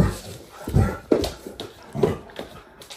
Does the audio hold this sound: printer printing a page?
no